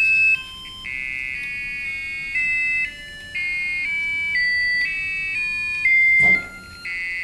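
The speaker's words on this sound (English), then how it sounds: "It is using the tone library of the Arduino IDE to create a set of ever increasing frequency tone bursts." Arduino board driven by the Arduino IDE tone library sounding a series of electronic beeps, steady tone bursts stepping up in pitch one after another, loud and clean with no talk, ending in a brief click.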